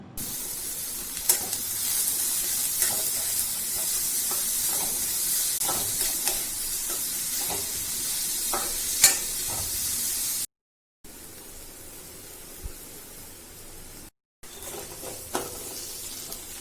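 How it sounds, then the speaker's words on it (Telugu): Onion pieces frying in hot oil in a pan, a steady loud sizzle with occasional pops and stirring clicks, briefly cut off and resuming. "స్టవ్ పై పాన్ పెట్టుకుని నూనెని హీట్ చేసుకుని ఉల్లిపాయ ముక్కల్ని వేయించుకోవాలి"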